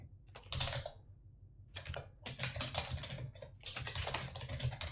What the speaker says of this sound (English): Who's typing is louder, guys? Can you hear mine?